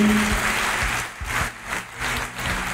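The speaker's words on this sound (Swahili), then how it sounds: "tupigie yesu makofi mazuri" A church congregation claps for Jesus at a service, a dense burst of applause that swells and dips in waves over a few seconds, with no clear speech.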